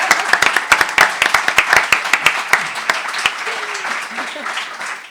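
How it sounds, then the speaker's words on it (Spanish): Scattered applause on a podcast, sharp separate hand claps in an irregular rhythm at first that thin out and stop, with a voice talking underneath. "Aplausos espero"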